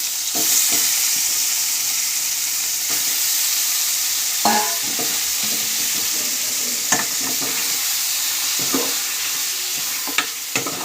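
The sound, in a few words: chicken pieces frying in a pan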